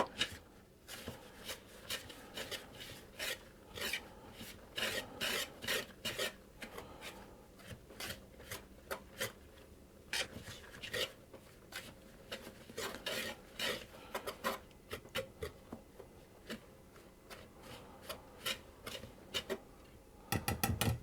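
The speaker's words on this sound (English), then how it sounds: "I'll just give that all a stir around to get everything combined" Flour and baking powder stirred in a bowl, a quiet run of quick, regular clinks and scrapes of the utensil against the bowl, fairly close but soft, continuing for the whole stretch with no voices.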